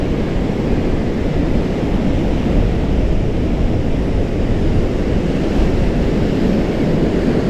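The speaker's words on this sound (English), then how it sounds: "one more look at the crashing waves. Oh, crashing waves on the sunset." Crashing ocean waves break on a sandy beach at sunset at low tide after a tropical storm, a loud, steady surf roar that fills the whole stretch without pause, with wind buffeting the microphone and no voices.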